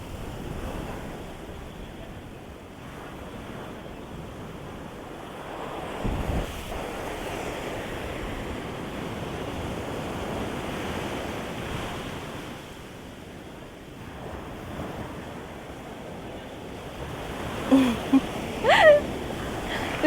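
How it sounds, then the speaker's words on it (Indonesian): Ocean waves break on a beach in a steady, broad roar of surf mixed with wind noise, with a few faint knocks and clicks close by near the end. "seingat saya ombaknya tidak sebesar ini sih"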